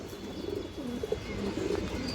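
A large white hen pigeon with a black tail and an old-line bloodline gives soft, low coos in a few short phrases, close by and fairly quiet, against a light background hiss.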